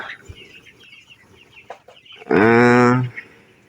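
A broiler chicken on a poultry farm gives a loud, drawn-out squawk near the microphone after a stretch of soft background clucking and farm noise.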